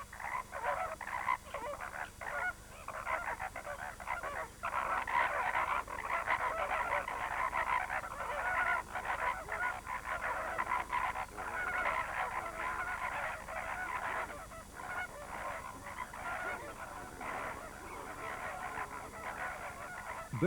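Greater and lesser flamingos crowd Lake Nakuru in Kenya, their dense honking and gabbling chorus running continuously and loudly, layered with overlapping nasal calls from many birds near and far.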